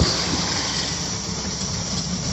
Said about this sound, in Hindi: ये लोकल ट्रेन है फरीदाबाद।